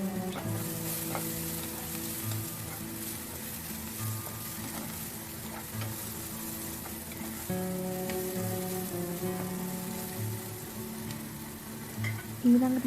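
Garlic, green chillies and sliced red onion sizzle and fry in a pan, a steady close crackle with occasional stirring clatter throughout, no talking.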